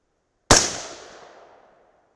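A single sharp .223 Remington rifle shot fired with a 62-grain Speer Gold Dot load over 28.6 grains of Power Pro 2000 MR powder, loud and close, with a long decaying tail trailing off for over a second.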